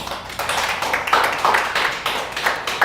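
A church congregation at a Sunday worship service breaks into loud, sustained applause, many hands clapping in a dense, rhythmic patter that swells in waves throughout.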